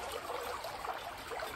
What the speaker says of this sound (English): But down by the stream, just in case we got plenty of water here